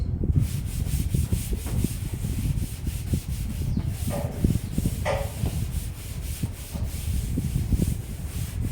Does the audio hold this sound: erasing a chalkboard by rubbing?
yes